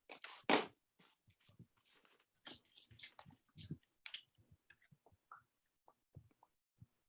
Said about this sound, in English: This is one of the reasons why I hate typing on an iPad screen.